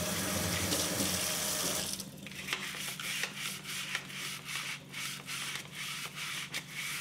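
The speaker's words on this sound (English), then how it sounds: "So let's wash this knife with this tool." A kitchen knife is scrubbed with a slip-over cleaning tool and dish soap under a running faucet, steady water rush with repeated rubbing strokes close by, no talk.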